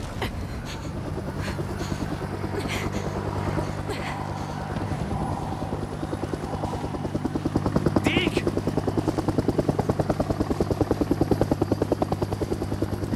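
A helicopter in the game Days Gone, its rotor thumping in a steady rapid pulse with a droning engine whine that grows louder and closer toward the end, with some faint background clatter.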